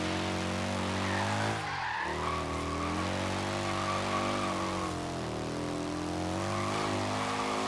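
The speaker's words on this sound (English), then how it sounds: "It even sounds like a motorcycle. It kind of sounds like a Harley a little bit." Continuous engine drone of a small three-wheeler car in Forza Horizon 3, motorcycle-like, rising and falling with gear changes, with a brief skid-like whoosh near the start.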